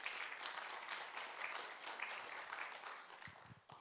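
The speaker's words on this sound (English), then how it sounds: "we would love to give them a round of applause" Concert audience applauds a show's sponsors, a steady wash of many hands clapping at moderate distance, holding evenly for a few seconds before thinning out near the end.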